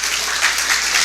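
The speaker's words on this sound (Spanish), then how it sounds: "Denle un fuerte aplauso al Padre." A church congregation applauds, a short burst of dense, even clapping filling the room at steady loudness.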